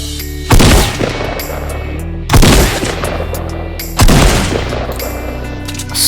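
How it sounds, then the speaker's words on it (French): A tactical shotgun in the video game Fortnite fires three loud, booming blasts spaced about two seconds apart, each with a short decaying tail, and no talking. "Et pompe tactique! Attention, vous êtes prêts pour le bruit?"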